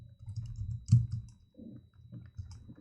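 Computer keyboard typing while writing HTML code, a quiet close run of soft irregular key clicks and taps with brief pauses between bursts, with no voices.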